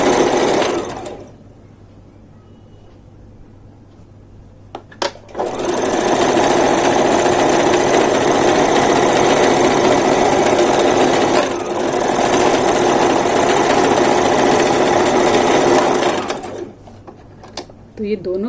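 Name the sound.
sewing machine stitching trousers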